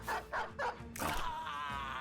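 A war dog in the medieval mercenary video game Battle Brothers gives three quick barks followed by a longer growling snarl, close and clear over quiet game sound.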